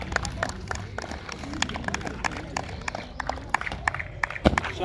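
A group claps hands in scattered, uneven bursts at a long jump training session, with quick sharp claps in loose rhythm over a busy outdoor background; no one speaks.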